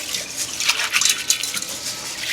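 Jamaican rice and peas made with three kinds of peas are being rinsed in water, giving close, uneven sloshing and splashing with small bursts of swishing and no talk.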